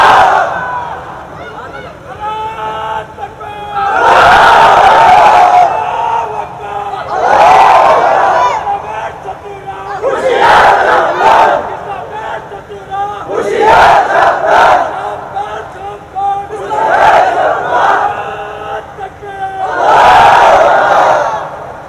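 At a Bangla religious sermon gathering, a large crowd roars Allahu Akbar in answer to a takbir call, the loud massed shouts returning in about seven rhythmic bursts with brief pauses between them.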